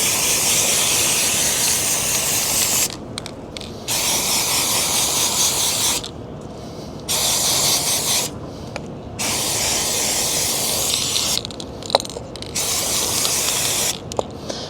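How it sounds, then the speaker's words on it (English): Tusk foam air filter cleaner hisses from an aerosol can onto a Rottweiler Solera foam air filter in long, loud, close bursts separated by short pauses, with faint clicks of the nozzle between sprays. "we're going to go ahead and spray this filter all over the place"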